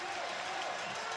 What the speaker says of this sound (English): So the crowd trying to urge this Hawaii team on.